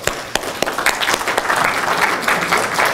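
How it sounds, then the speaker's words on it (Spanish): An audience at a lecture on dosimetry and cancer radiotherapy gives a brief round of applause, with steady, fairly close clapping from many hands over a few seconds. "un aplauso para..."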